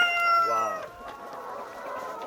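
Free-range chickens on a farm in Taean are let out of the coop, with a rooster crowing nearby followed by scattered clucking and soft flock noise in the background.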